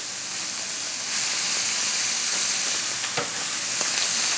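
Chanterelle mushrooms sizzle and hiss steadily in a hot pan, with a few faint clinks and scrapes of stirring.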